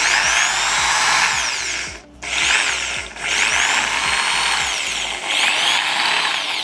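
A power drill with hammer mode switched off runs against a wall, giving a loud, steady whining grind close by that briefly cuts out twice before resuming, with no voices.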